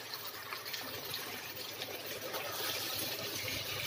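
Water is poured into a cooking pot of chicken korma as a continuous, even rushing splash that holds steady and close for the whole stretch, with no talking over it.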